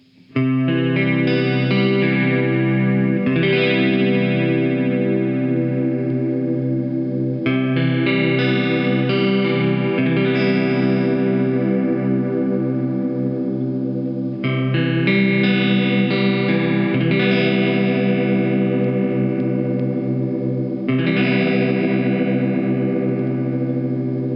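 Sustained electric guitar chords wash through a Boss DC-3 Digital Dimension chorus pedal, swirling and shimmering, the pitch gently wobbling as each new chord rings out.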